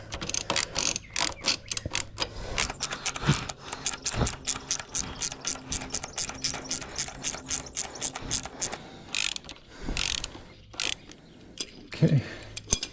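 A ratchet wrench loosens a 17 mm bolt on the rear suspension of a Honda CRF250L, a fast run of close clicking strokes with a few pauses and some quiet talk mixed in.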